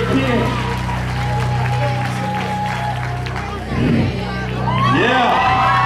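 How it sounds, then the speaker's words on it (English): A crowd at a street ministry performance applauds and cheers amid lively hubbub, with voices calling out over the clapping as it swells again toward the end. "Give us an everlasting applause."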